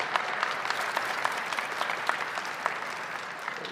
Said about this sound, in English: Let's give another round of applause for our wonderful First Lady